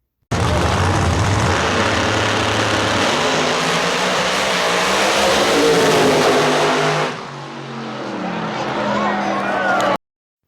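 No Prep Kings drag race cars in Louisiana roaring loudly down the track, a dense sustained engine blast with rising revs that drops off sharply near the end, then continues at lower level.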